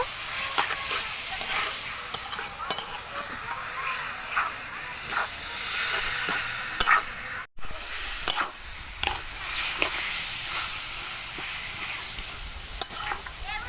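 Amra (hog plum) pickle is stirred with ground spices in a hot pan, making a continuous sizzling hiss with repeated scraping strokes and a brief cut partway through.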